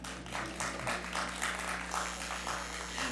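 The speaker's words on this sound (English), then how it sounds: "You can clap." Applause rises from the audience at a school board budget work session and public hearing, moderate and somewhat distant claps over a steady low hum.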